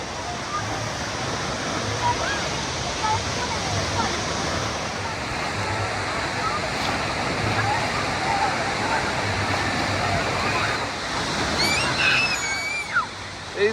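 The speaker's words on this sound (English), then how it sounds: "These waves are not slowing down." Waves crashing in a wave pool at a Florida water park, a continuous roaring wash of surf with surges, close and loud, with excited shouts and voices near the end.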